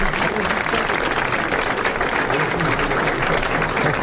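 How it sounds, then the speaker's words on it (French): A 1981 French television studio audience applauding, a loud, continuous wash of many hands clapping with crowd murmur mixed in. "vous applaudissez Monsieur Galtier de Béziers"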